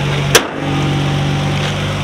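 A steady low engine idle hums throughout from a Nissan Altima with a new intake manifold, briefly interrupted by a sharp click near the start.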